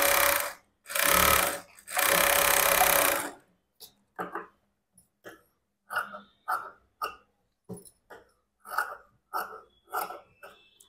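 A sewing machine stitches a blouse seam, first running in three long, loud bursts, then stuttering in short, rapid stitch runs with brief gaps between.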